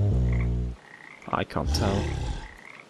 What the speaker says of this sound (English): There's the frogs.